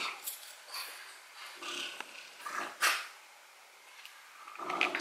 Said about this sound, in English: the very first thing I want to talk about is my dog making noises